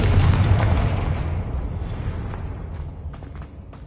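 Confringo fire spells exploding in the Hogwarts Legacy video game: a heavy boom with crackling bursts that fades out over a few seconds, with no talk.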